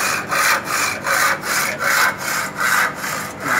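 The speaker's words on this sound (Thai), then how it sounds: "เลื่อยไปเรื่อยอย่างนี้แหละดูให้เลื่อยกินคล้องเลื่อยกินระหว่างกลางเส้นไปเรื่อย ๆ" A hand saw cuts through wood in steady back-and-forth strokes, about seven even rasping pulses, close and clear with no talking.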